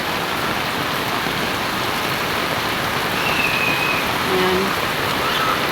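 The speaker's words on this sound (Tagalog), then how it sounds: "grabe, lakas na ng ulan." Heavy rain pours down outside a house in the Philippines, a dense, steady hiss of downpour that stays loud throughout, with a brief faint voice in the background.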